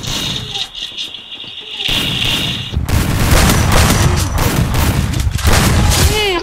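Rapid bursts of gunfire in the shooter game Free Fire, including shotgun blasts, crackle loudly and densely through the clip over a steady game backdrop, with dense volleys after the first seconds.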